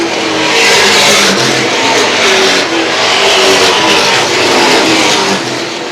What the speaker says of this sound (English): Connor McDougal hot on Mackey's tail as they head down the back chute